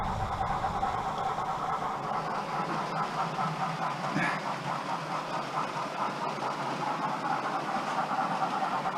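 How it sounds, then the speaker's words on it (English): OO gauge model trains run around a large 40 ft loft layout at night, giving a steady, close rumbling and clattering hum that continues evenly throughout, with no talking. "Got a few trains running around."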